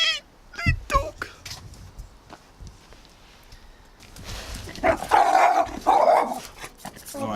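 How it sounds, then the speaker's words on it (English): A small dog barks a few times up close outdoors in Luxembourg, then goose-like honking calls follow in the background. "Sweet little dog."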